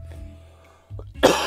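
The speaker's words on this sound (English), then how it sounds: "I cough, unfortunately." After a quiet stretch, a single short, harsh cough bursts out at the end, close and loud.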